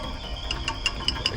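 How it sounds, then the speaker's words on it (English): A ratchet wrench, used while fitting an Apexi N1 exhaust to a G35, clicks in a quick, light run of about five evenly spaced ticks, close by and fairly quiet. "Can't wait to break my favorite ratchet"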